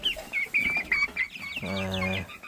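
Chickens cluck and chatter nearby in a short burst of repeated calls, followed by a steady, buzzing vocal tone near the end.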